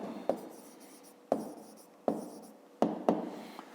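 A pen scratches across paper in short strokes, each starting with a sharp tap and fading, four or five close, quiet bursts while working out a sum of digits.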